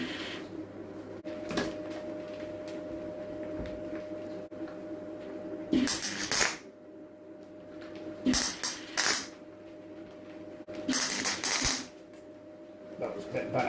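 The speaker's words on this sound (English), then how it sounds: "Got a good weld there." Welding on a home-built chainsaw sawmill: three separate crackling, hissing bursts of a second or so each, loud and close, separated by quieter stretches of steady background hum.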